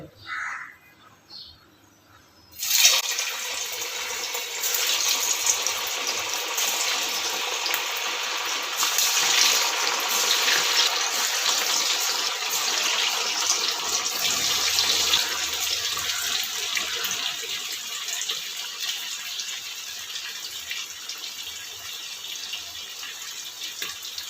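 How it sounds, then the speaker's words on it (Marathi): Cabbage vadi slices frying in medium-hot oil, a sudden loud hissing sizzle that starts after a few quiet seconds and then holds as a steady, dense crackle close by. "तर इथे तेल मध्यम छान असं गरम करून घेतलेलं आहे आता आपण या वड्या तळून घेऊया"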